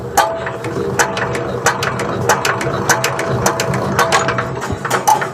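Motorcycle kick-start lever pushed through engine compression, a steady run of sharp ratcheting clicks and mechanical thumps repeating roughly every half second, close and loud with no talk.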